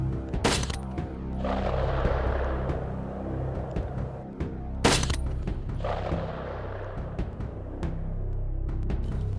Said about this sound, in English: that was as simultaneous as you could get 2 bullets going down range at the exact same time